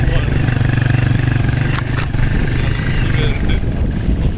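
A motorcycle riding off-road on a rough track in Tanzania, its engine running steadily and close throughout, with a strong low rumble under a voice talking over it.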